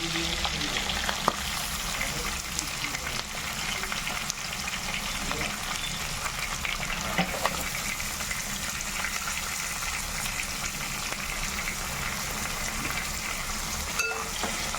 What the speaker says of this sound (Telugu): ఉల్లిపాయలు వేసుకుని బాగా వేగిన తర్వాత బాగా వేపించుకోవాలి ఎర్రగా అలాగా